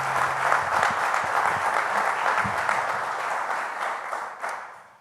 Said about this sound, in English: So please give him another round of applause.